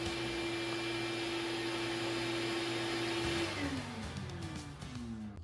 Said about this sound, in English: after the saw shuts off, the vacuum continues running for a few seconds to clear any remaining dust in the line